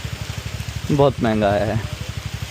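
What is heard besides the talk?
rain falling outdoors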